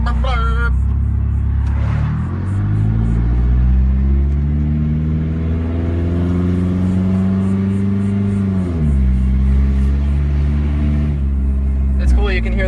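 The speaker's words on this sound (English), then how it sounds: "you can hear the turbo like all the time, no matter what rev you're at" A turbocharged race car engine drones loudly from inside the cabin on a test drive, its pitch climbing and falling with each gear change over a low rumble, while a whistling whine rides on top throughout.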